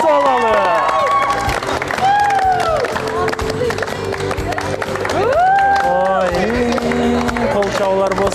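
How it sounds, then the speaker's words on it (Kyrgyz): A studio audience applauds a contestant on a dating show, broad sustained clapping and crowd noise under loud music with tonal swoops, and a host's voice calls out over it. "Кол чабуулар болсун, кол чабуулар болсун."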